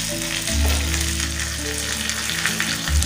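Curry leaves crackle and sizzle in hot oil with mustard seeds, urad dal and cumin while tempering for kollu thuvaiyal, a close, steady frying hiss throughout with a low rumble beneath.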